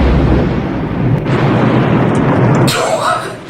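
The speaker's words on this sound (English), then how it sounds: "Quaid uses it to blow up the shark for good" A large explosion blows up the shark in the film Jaws 3D, a loud dense roaring blast with a rumbling tail, overlaid with voices.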